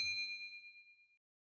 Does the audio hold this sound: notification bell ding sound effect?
yes